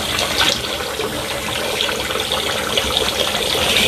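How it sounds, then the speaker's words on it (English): Cold tap water runs steadily into a sink to wet the face before shaving, a continuous close splashing hiss with no voices. "Right now I'm using cold water because we don't have the hot water tank turned on out here."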